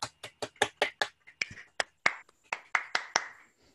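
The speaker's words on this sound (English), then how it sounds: "those of us who are presenting can clap" A small group of presenters in an online health-inequality session clap in thanks, about a dozen quick, sharp claps with uneven spacing, close to the microphone and heard alone.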